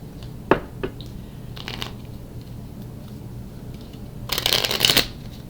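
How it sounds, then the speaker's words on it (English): A deck of cards is riffled and bridged, with a couple of quick snaps early and a longer, louder riffle near the end. "So I'm going to go ahead and shuffle these real quick."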